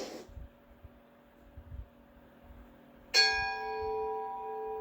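A school bell strikes once and rings on with a bright, sustained metallic tone after a few seconds of faint room hum and low murmuring.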